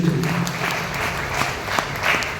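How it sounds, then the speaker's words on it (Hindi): An audience at a business success-story event applauds, a short burst of dense clapping at steady volume with a low murmur underneath. "एक बार जोरदार ताली हो जाए"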